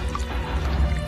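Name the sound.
water flooding into rooms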